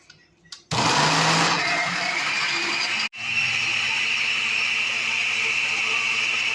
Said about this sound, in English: I'm just going to blend it up.